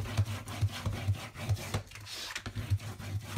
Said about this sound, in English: Now I'm going to flip this over, give it a really good burnish in the back